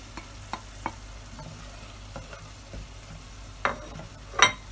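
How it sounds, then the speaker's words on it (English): Ground spices (turmeric, garam masala, cumin and coriander powder, chilli powder) frying in oil for a soya chunks curry. Soft, low sizzle with a few scattered scrapes of stirring, a sharper scrape near the end. "the garam masala, the jeera powder, and the dhania powder. And last, I add the chilli powder."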